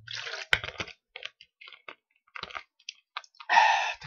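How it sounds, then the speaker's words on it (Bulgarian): Someone takes and swallows a small sip of water, with close, quiet wet mouth clicks, gulps and squishy swallowing sounds in short irregular bursts, ending in a louder breathy rush. "Гълтам малко вода и продължаваме."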